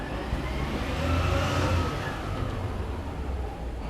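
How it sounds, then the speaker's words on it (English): A garbage truck idles and rumbles steadily out front of a house, a broad continuous low engine drone with a slight swell midway, fairly loud and close with no talk over it. "the garbage truck out the front, hopefully that's not too loud for you guys"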